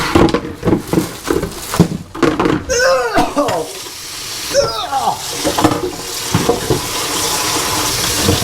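Water runs from a tap with splashing and rubbing as something foul-smelling is rinsed underneath, while a person talks and exclaims over it.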